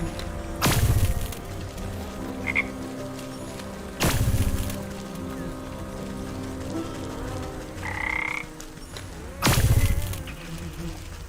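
In the video game Wytchwood, frogs croak in three loud, separate bursts spaced a few seconds apart over a soft, steady ambient drone, with faint buzzing insect-like chirps in between.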